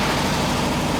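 A VW bus engine idles steadily and close by, a continuous low rumble with an even, unbroken tone and no voices over it.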